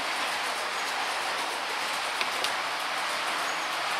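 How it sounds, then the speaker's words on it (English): A Hornby Elite-controlled model railway locomotive running on its track, heard as a steady, close, hissing rumble of motor and wheels, continuous throughout with a couple of faint clicks. "to regain control of the locomotive, which is currently doing the rounds up here"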